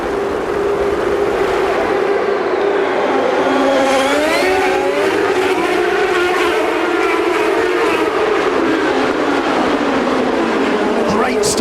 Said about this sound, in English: the race will be underway, and this is a tremendously exciting start